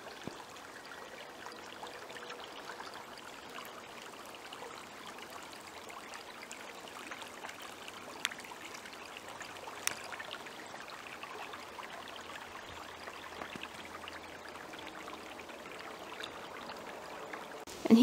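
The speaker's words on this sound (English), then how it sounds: "This creek is named Glade Run." Glade Run creek flows along a wintry trail as a faint, steady trickling wash, quiet and continuous with a few small clicks and no voices.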